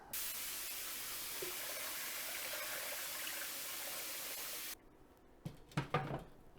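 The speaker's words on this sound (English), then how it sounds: "I think I'm going to add some more water." Water pours steadily into a steam juicer used for old-fashioned fruit and berry juicing, a soft continuous hiss and splash that stops abruptly, followed by a few quiet metallic clinks and handling sounds.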